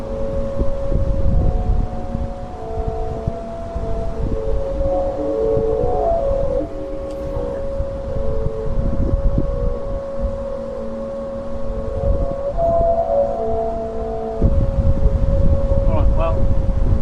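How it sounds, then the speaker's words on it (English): Sustained tonal hums and shifting musical notes from a wind-driven singing ship sculpture at Emu Park, layered over constant roaring wind gusts, with faint speech at moments. "at least it gave us a good demo of what the singing ship can sound like"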